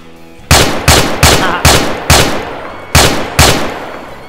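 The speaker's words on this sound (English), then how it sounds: "Yeah, this gun is pretty loud." In ArmA 3, a loud rifle called the Honey Badger fires seven sharp, booming shots in an uneven rhythm, each one trailing off in a short echo across a snowy winter map.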